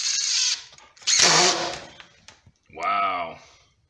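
Impact driver fitted with a drywall depth-setting disc bit drives a screw in three loud whirring bursts, the last one rising and winding down in pitch, with brief pauses between.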